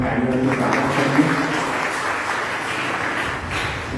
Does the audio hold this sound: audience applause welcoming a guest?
yes